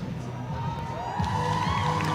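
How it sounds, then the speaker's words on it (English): A crowd cheers at a show jumping team final as a rider clears the last fence, a steady broad roar of applause and shouts that swells slightly toward the end. "Cheers going up from the crowd."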